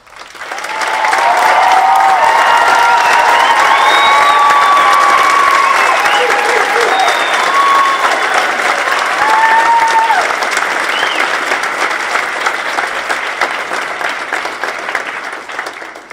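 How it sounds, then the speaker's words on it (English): A graduation audience at a 2018 academy ceremony applauds its teachers with sustained, dense clapping that swells quickly, holds strong for most of the stretch, then gradually thins toward the end, with faint cheers and whistles mixed in. "Would the teachers please stand for a round of applause?"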